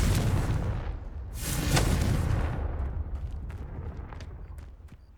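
A Confringo fire-blast spell erupts in Hogwarts Legacy as a single deep boom with a roaring burst that swells, then slowly rumbles away, with a few faint clicks in the tail.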